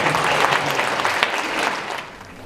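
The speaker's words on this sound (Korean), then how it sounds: "박수로." Applause from an audience at a Korean university admissions briefing and alumni gathering, filling the room with dense, steady clapping that holds throughout and thins slightly near the end.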